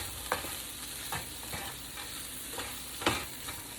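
Shrimp frying in a pan with lemon, a steady soft sizzle broken by a few brief utensil scrapes and stirs.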